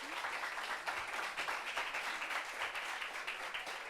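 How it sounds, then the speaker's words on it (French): Quiet applause from an audience welcoming a guest at a meeting, a low, even spread of many hands clapping with a few sharper individual claps. "Applaudissements Nouri, s'il vous plaît."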